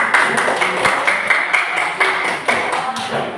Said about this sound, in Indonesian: Tepuk tangan dulu biar kawannya semangat.